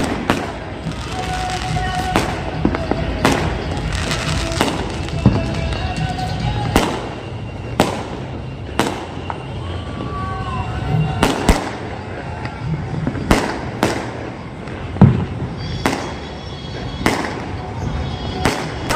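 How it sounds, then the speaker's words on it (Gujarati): Firecrackers bursting again and again at a Makar Sankranti celebration in Ahmedabad, sharp loud cracks at irregular intervals, some near and some distant, over a busy background with voices. "ઓય ભાઈ ફટાકડા કેવા ફૂટે"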